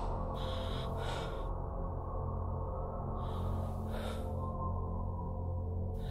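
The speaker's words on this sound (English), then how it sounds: "My breathing doesn't help." In a horror video game, the player character breathes heavily, loud and close, with a few strained gasping breaths over a steady low ambient drone.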